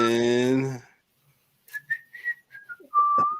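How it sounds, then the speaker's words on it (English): A person whistles a clear, melodic tune in short rising and falling phrases, the notes bright and close, following a brief stretch of someone talking at the start. "why are you whistling"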